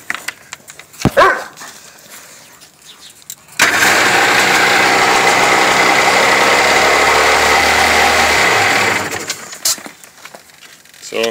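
A Sea-Doo 3D personal watercraft with a carburetor starts abruptly and runs loud and steady for about five seconds, then cuts off, with scattered handling noises before and after.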